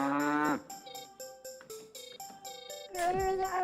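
A cow moos in a virtual world game, a loud, drawn-out bellow at the start followed by a run of short synthetic game tones, with a second low moo near the end.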